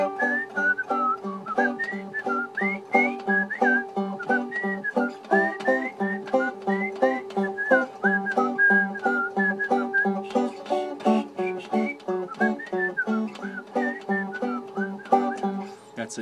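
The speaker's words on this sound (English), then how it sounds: "my whistling's terrible, I'm sorry" A single person whistles a bluegrass tune in a steady, continuous melody of quick, bouncy notes for about sixteen seconds, close and clear with no other sounds.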